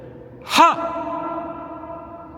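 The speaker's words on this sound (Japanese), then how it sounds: "自然のエコーです。" A short vocal call rings out and trails off in a long natural echo that lingers and fades for about two seconds in open air, on a foggy walk near the Naruto Strait.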